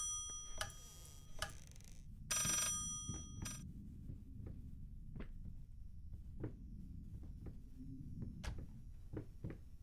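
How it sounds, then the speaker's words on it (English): Eerie atmosphere from the horror game Layers of Fear with a faint telephone ring, a short bright burst of bell tone amid sparse ticking clicks and a low rumbling ambient drone. "And the phone broke. How's it still ringing?"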